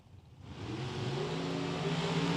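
Drag race cars, one a 1965 Oldsmobile 442, launch down a drag strip at the California Hot Rod Reunion, engines roaring up from quiet into a loud, sustained rising rev that carries to the end.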